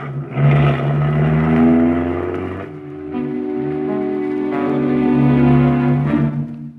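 A car engine drives off as a radio drama sound effect, revving steadily and then pulling away with a loud, close whirring drone throughout, and no voices over it.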